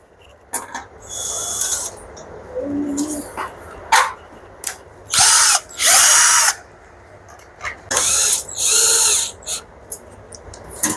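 Power screwdriver tightening screws on an electrical panel during wiring work. Several short bursts of motor whine in quick succession, loud and close, with quiet pauses between them.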